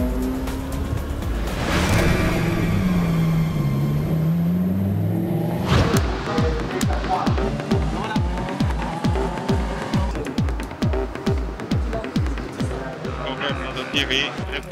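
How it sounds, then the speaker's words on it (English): A 2012 Audi race car engine fires up and revs at Monza, then settles into a rapid, pulsing idle, fairly loud and close, with a voice talking over it. "Okay, you can start the engine now."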